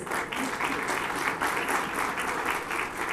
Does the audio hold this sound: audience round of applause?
yes